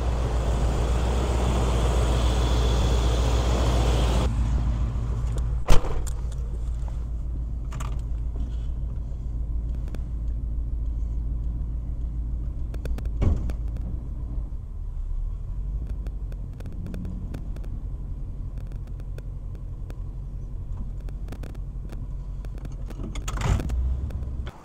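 An old squarebody pickup truck engine, filled with synthetic oil, idles steadily as a low continuous rumble, with a few sharp clicks and clunks around it and no talking.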